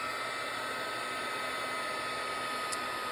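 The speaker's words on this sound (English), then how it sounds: "I'm going to leave my heat tool on." A heat embossing tool blows hot air in a steady, unbroken electric whir with a constant hiss, close and even from start to finish.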